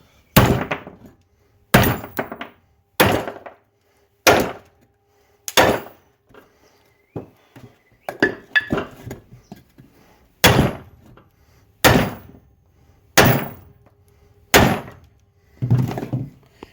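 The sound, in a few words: hammering wheel studs into hub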